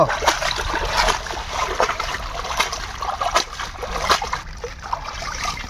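Taro stems are rubbed and rinsed by hand in water, producing continuous close splashing and sloshing with small dribbles and no talking.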